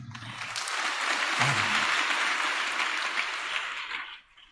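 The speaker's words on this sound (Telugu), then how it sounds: "మీరు చప్పట్లు ఎందుకు కొట్టారో ఇప్పుడు మీరే తెలుసుకోండి" A large audience at a sermon applauds steadily for about four seconds, a dense even wash of clapping that fades out at the end.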